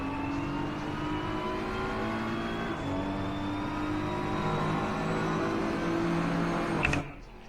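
Race cars lap the Suzuka circuit in a sim racing video game, engines droning in steady overlapping tones with gentle pitch shifts and gear changes, loud and continuous before the sound cuts off abruptly near the end.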